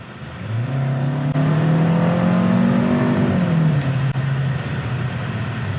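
A 2021 Hyundai Sonata's 1.6-liter turbo engine accelerates, heard from inside the cabin, a rising steady drone with a gear change midway, then settling into a lower hum; no talking.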